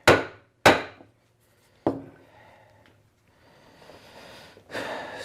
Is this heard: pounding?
yes